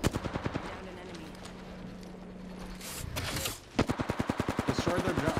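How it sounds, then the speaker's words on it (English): Rapid automatic gunfire in a competitive team shooter video game, loud rhythmic bursts at the start and again in the second half, separated by a brief quieter stretch with a faint tone. "They're getting shot in the back."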